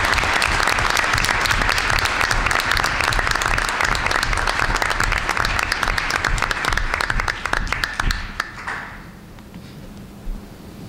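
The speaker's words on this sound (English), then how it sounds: "So please give a round of applause to Jamie Ashenow and Michelle Fahn." Loud, enthusiastic applause from a large audience at a school board meeting, sustained for several seconds before tapering off and fading into quiet near the end.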